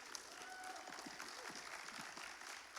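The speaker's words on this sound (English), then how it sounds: "Give him a round of applause, guys." Audience applause at a Comic Con panel, a steady wash of clapping from a crowd filling the room, moderately distant, with faint voices mixed in.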